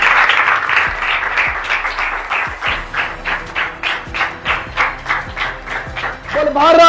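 A crowd at a physical training academy gives loud applause for Sneha Ghosh, claps landing in a fast, pulsing rhythm that swells and then fades, and a voice begins speaking at the end.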